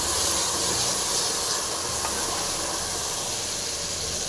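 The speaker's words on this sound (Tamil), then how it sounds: "இப்போ நம்ம நல்லா ஃப்ரை பண்ணிக்கலாம்." Onions and tomatoes fry in a pan for a fish sambar, a steady, dense sizzling hiss that holds unchanged throughout, with no voices.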